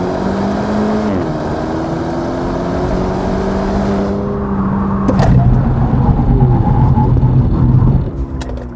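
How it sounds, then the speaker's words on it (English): A 2021 Hyundai Elantra N-line accelerates and then brakes hard during a stopping test. The engine drones with rising pitch shifts, followed by a sharp transient and a rumbling road-noise slowdown that fades at the end. "why don't we check out the braking performance of this Hyundai Elantra"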